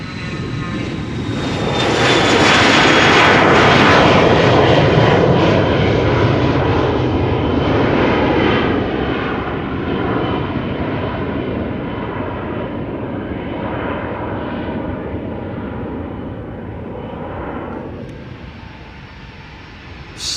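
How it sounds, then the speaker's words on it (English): A Cessna Citation business jet at Amsterdam Schiphol Airport roars loudly, swelling to a peak early on and then slowly fading as it moves away, with no talk. "Cessna Citation going to Saint-Tropez, which isn't a stereotypical destination for a Bizjet at all."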